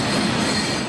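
A train rumbles and rattles along railroad tracks at a crossing, a loud, continuous steady roar with a faint wheel squeal, no voices.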